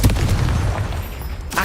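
Confringo blasting spell explosion in Hogwarts Legacy, a deep booming blast with sustained low rumble through most of the moment, ending in a brief sharper burst.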